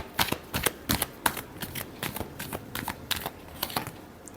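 A deck of tarot cards is shuffled close by, a steady run of crisp riffling flicks and soft slaps repeating in quick, uneven bursts, with no talking.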